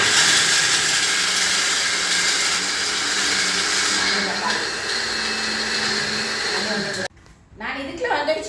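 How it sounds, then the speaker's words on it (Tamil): A kitchen blender whirs loudly and steadily while blending ingredients for soya meat burgers, running for about seven seconds before cutting off abruptly, leaving brief clattering and handling noise. "நான் இப்போ வேற பிளெண்ட் பண்ண போகிறேன்"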